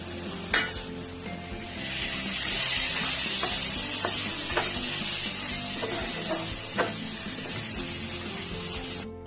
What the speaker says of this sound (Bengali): খুব ভালো করে মশলাটাকে কষাতে হবে। মশলাটা কষানোর জন্য একটু মশলা ধোয়া জল দিয়ে দিচ্ছি